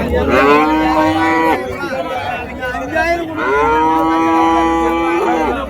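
Jersey calves and cattle at a large cattle market mooing loudly, two long drawn-out calls close by with faint crowd chatter underneath.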